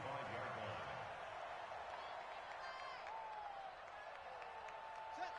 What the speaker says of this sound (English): That's why you hear that clapping on the sidelines, right?